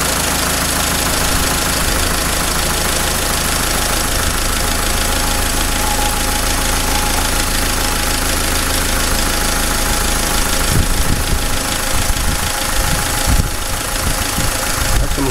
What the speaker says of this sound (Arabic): الموتور قاعد يتغير صوته من احسن الى احسن.